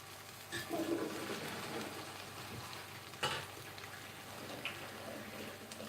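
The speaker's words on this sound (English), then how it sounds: "Just going to drain this spaghetti." Cooked spaghetti being drained, a steady rushing pour of hot water with sizzling splashes in a home kitchen, close and continuous with a couple of louder clunks.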